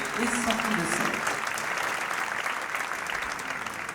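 Sustained applause from an audience at an international opera competition in Marseille, a dense steady wash of many hands clapping throughout, heard at moderate distance in a large hall.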